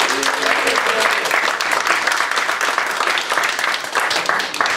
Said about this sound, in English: So we like to pick the winner of the game based off round of applause.